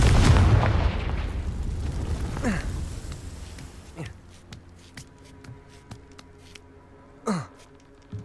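A Confringo fire spell explodes in the Hogwarts Legacy video game with a loud, close boom and rumbling burst at the start, fading into scattered crackles, whooshes and impacts of ongoing combat.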